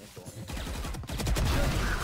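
Rapid gunfire from Valorant, a tactical first-person shooter, bursts out densely and loudly through the second half after a quieter start, with faint voice chatter underneath.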